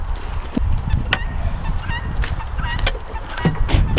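A backyard flock of chickens and geese calls nearby, with repeated loud goose honks and fowl clucks and squawks rising over a busy farmyard background.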